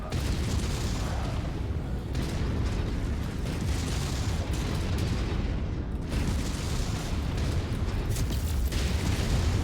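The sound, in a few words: mech reactor explosion in video game MechWarrior 5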